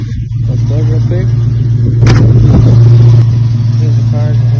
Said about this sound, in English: about to show this video starting the 1967 Ford Mustang